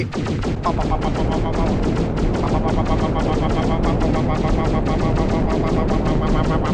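Rapid, dense weapon fire hammers at a planet in the game Solar Smash, a loud continuous barrage of machine-gun-like bursts filling the whole stretch with no pauses.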